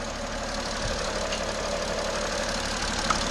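A 2011 BMW 335 diesel engine runs steadily at idle after EGR and EGR cooler repair work, a continuous even mechanical hum with a faint knocking texture, fairly close and alone without voices.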